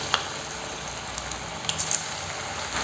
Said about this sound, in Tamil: இப்போ இதை நம்ம எண்ணெயில் பொரிச்சிடலாம்